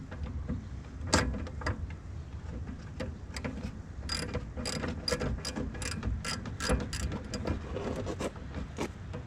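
Ratchet wrench clicking in quick irregular bursts while loosening the sway bar end link nut on a 2002 BMW 325i E46, close and fairly loud, with no talking.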